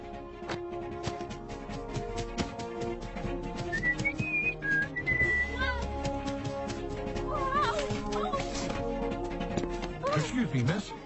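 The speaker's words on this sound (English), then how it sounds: "why were you whistling like that?" A few short whistled tones rise and fall briefly amid background music and other sounds, fairly faint rather than prominent.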